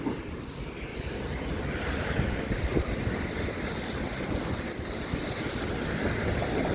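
Strong waves splash and rush continuously against a moving boat, loud and close, with steady wind buffeting underneath.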